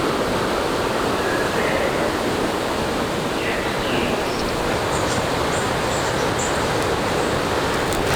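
Steady broadband rush of a rainforest creek flowing beside a boardwalk near a junction of creeks, continuous and close, with faint birdsong high above the water noise.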